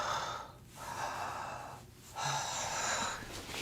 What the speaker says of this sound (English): you just take a few deep belly breaths